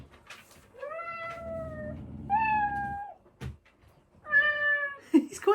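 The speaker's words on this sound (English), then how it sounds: "a higher meow if you stroke his tail." A robotic toy cat gives high-pitched meows when its tail is stroked: three distinct, loud, close cries over a faint low hum, followed by brief extra squeaks.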